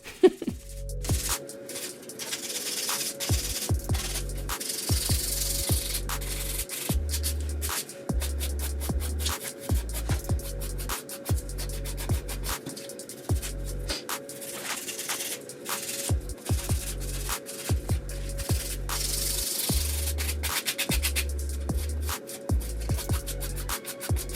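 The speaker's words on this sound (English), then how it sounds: "a lot of y'all don't like sitting through the filing process" Builder gel nails being filed in sped-up footage, with a steady scratchy rasp broken by quick repeated strokes and brief pauses, close and moderately loud throughout, with no talking.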